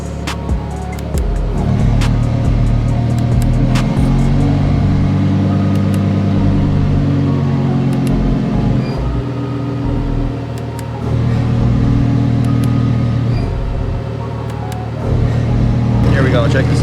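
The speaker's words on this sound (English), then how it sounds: "As you change the modes on the car, it changes the sound with the valves in the exhaust." Lamborghini Huracan EVO with valved exhaust idling and blipping, a deep steady rumble with surges and dips, heard alongside talking.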